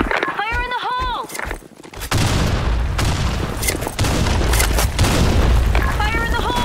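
A grenade explodes in the shooter game BlackShot with a heavy boom that sets off a long, loud rumble of blasts and gunfire, close and dense, with voices in between.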